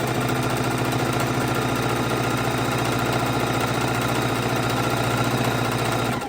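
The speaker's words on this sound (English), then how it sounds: "we are sewing our 2 strips together, and we are going to sew these 2 strips, I should say 20 strips, to our other 20 strips" A sewing machine runs steadily while stitching jelly roll quilt strips together, giving a dense, continuous mechanical whir and rapid needle chatter. It stays at an even level throughout, with no talking.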